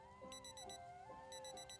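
An alarm clock rings in the video game Project Zomboid, sounding as a repeating electronic beep pattern in two quick bursts over a soft, sustained background tone, with no talking.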